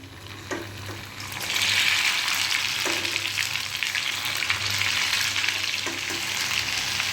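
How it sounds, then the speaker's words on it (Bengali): Coconut pitha cakes frying crisp in hot oil, a steady close sizzle that swells and settles, with a few light clinks of a utensil stirring in the pan. "পিঠাগুলো আমি একটু ক্রিস্পি করেই ভাজছি"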